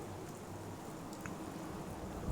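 Rain falls in a video game as a faint, continuous hiss with soft scattered patter and no voices.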